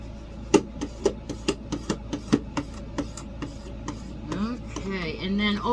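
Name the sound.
Dollar Tree scraper smoothing sticker onto board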